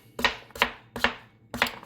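A kitchen knife scooping and cutting butternut squash on a board makes four crisp, evenly spaced strokes, each a short scraping chop, close and clear with nothing else heard.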